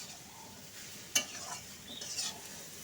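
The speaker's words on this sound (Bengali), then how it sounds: "একটু ভালো করে কিন্তু কষিয়ে নেব।" Ground spices stir-fried in a pan for a Bengali crab dish with pumpkin and Malabar spinach, heard as a soft sizzle with one sharp spatula scrape in the middle and a fainter stir near the end, no talk.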